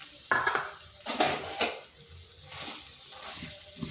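Boiled, mashed potatoes are stirred with spices in a pan, with repeated sharp scrapes and clinks of a utensil against the metal over a faint sizzle.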